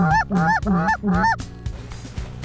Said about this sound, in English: The city's human population can at times seem dwarfed by its Canada goose populations